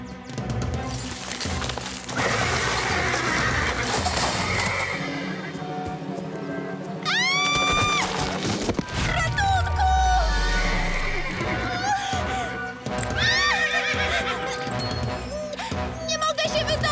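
A frightened cartoon horse from a children's firefighter series whinnies in several rising squeals amid loud clip-clopping hooves and a crash, with music and a voice mixed in.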